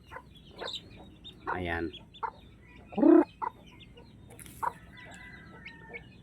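Chickens and small chicks cluck and peep in short scattered calls, near and fairly clear against a quiet outdoor background, with a brief spoken word in between.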